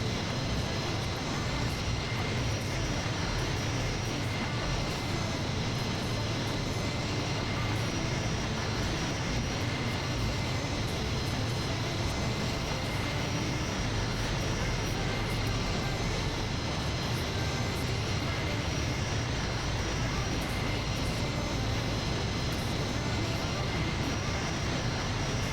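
C-17 Globemaster jet engines in Microsoft Flight Simulator, a steady broadband roar that holds at an even loud level throughout with no breaks and no talk.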